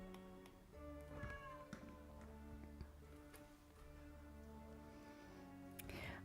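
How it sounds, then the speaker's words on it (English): A domestic cat meows a few times, faint and somewhat distant, over a steady background hum and soft tonal music-like drones, with a sharper burst near the end. "This cat will make me crazy"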